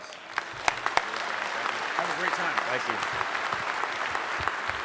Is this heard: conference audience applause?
yes